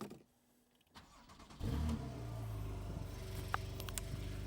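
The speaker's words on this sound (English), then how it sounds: "Let me actually start it up so you can hear the exhaust." Porsche 911 Carrera S (991.1) flat-six cranks and fires, then settles into a loud, steady idle with a deep exhaust drone and a faint clatter, alone with no talking.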